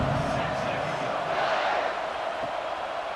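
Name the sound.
crowd buzzing in stadium, from video game College Football 26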